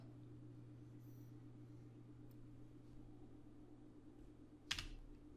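A single sharp tap of the E key on a computer keyboard, used as an image-editing shortcut, lands near the end over a steady low room hum.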